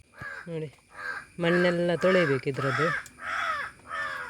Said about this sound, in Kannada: ಕಾಗೆ ಕೂಗ್ತಾ ಉಂಟು